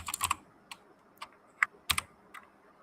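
Fingers type on a computer keyboard in quick, irregular bursts of crisp, close, fairly quiet key clicks, with short pauses between clusters and no talking.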